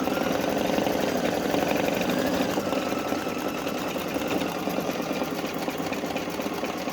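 Brother Innovis I embroidery machine stitching a large embroidery: a loud, close, rapid mechanical needle chatter runs steadily throughout with no pauses.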